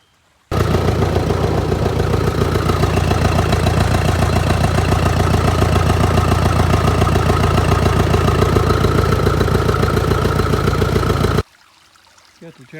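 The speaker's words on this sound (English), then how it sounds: "Got the tractor in the creek," An old tractor engine runs in a creek, a loud, steady mid-to-low idle chug with a faint trickle of water beneath, holding evenly for about eleven seconds before stopping abruptly, no talk.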